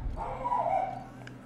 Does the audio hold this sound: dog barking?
yes